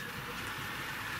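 A Hornby battery-powered toy train runs along its track with a steady whirring rumble that stays close and even the whole time, and no one speaks.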